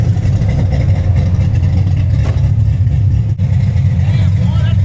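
A car engine fitted with an ACES Killshot exhaust rumbles loud and close in a deep, steady drone, with a faint voice underneath.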